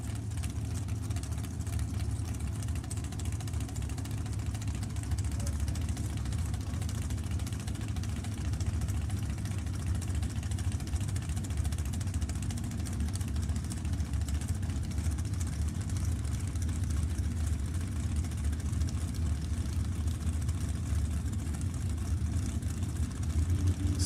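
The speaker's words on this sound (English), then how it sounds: "Another one of the Tom Bayer School dragsters" Drag racing dragsters sit idling at the starting line, a loud, continuous low engine rumble that holds steady throughout without speech.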